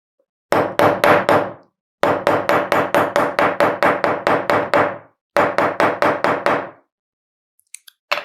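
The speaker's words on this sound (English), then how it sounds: "I am going to take a wooden stripe and I am going to hammer it well" Hammer blows on a wooden strip in a school science lab: three bursts of rapid, loud, evenly spaced strikes, about twenty knocks in all, close to the listener with no talking.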